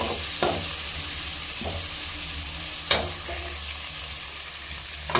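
Bottle gourd pieces fry in a pan for curry, a steady close sizzle punctuated by several distinct scrapes and knocks as a spoon stirs them, with no one speaking.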